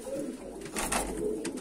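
Pigeons cooing inside a coop, several soft, low, rounded coos repeating close by over a faint background hiss, with no talking.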